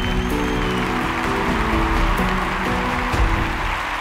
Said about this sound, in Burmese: အောင်နာမင်းတို့လက်ခုပ်တင်ကြားချင်ပါတယ်ဗျာ